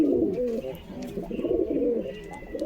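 Racing pigeons coo steadily nearby, soft repeated throaty calls overlapping one another in a loft, with faint background voices.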